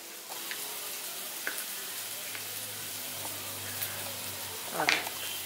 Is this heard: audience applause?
no